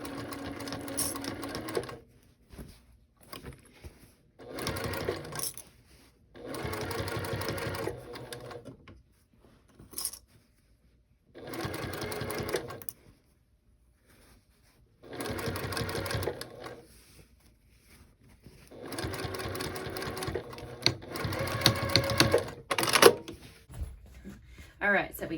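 Bursts of a sewing machine stitching a hobo bag, several separate runs of rapid needle chatter with pauses and small handling noises between them, fairly close and moderately loud.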